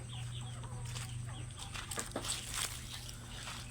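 Several chickens cluck softly at a distance over a constant low hum, with scattered short calls in an open outdoor setting.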